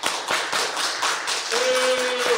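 Audience applause at a tech talk, dense clapping from a crowd with a sustained voice-like tone late on that may be booing mixed in, fairly loud and continuous.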